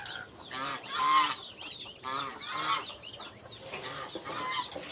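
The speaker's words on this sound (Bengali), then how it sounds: "চীন হাঁস, পাতি হাঁস, রাজহাঁস, আল্লাহ রহমতে 3টা হাঁসই আছে আমার।" Domestic geese and ducks, including Chinese geese and local ducks, honk and squawk repeatedly in loud overlapping bursts, kept on a rooftop garden set up like a village yard.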